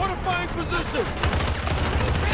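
Rapid gunfire in the video game Battlefield 2042, with bursts of shots from an M16A3 rifle and a dense crackling barrage that picks up in the second half, under game noise and a voice.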